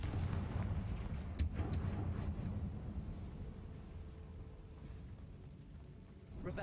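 Fiery spell blast from the Confringo curse in Hogwarts Legacy, a heavy booming burst with rumbling low-end crackle that rolls on steadily, loud and close, with no voices.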